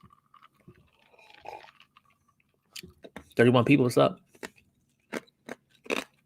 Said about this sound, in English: I gotta stop chewing this ice.